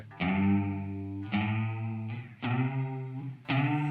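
Electric guitar through a dual chorus pedal at an extreme setting, four strummed chords each ringing out with a rubbery, pitch-bending wobble, close and loud with no talking.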